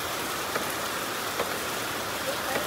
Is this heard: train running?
no